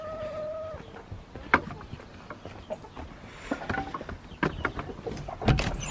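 Chickens clucking on a homestead, several short close clucks and squawks scattered irregularly over a few seconds amid light farmyard noise.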